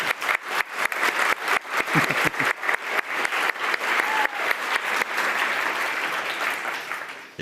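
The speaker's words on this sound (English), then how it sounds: "Yes, one more applause." Rhythmic applause from a group, dense clapping that swells and holds steady for several seconds before tapering off, close and lively.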